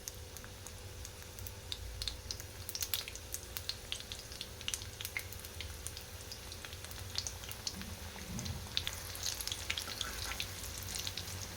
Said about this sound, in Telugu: సమోసాలు రెడీ అయినాయి ఫ్రెండ్స్ వీటిని వేయించుకుందాం